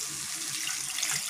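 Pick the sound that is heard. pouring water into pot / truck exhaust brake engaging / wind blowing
pouring water into pot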